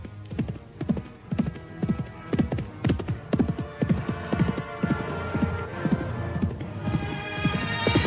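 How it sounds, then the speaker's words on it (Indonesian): A white horse galloping quickly in an audio drama, with loud, close hoofbeats clip-clopping in a fast, even rhythm over a low humming background, and no voices. "Tidak berapa lama kemudian mereka melihat seekor kuda putih melesat dengan cepat"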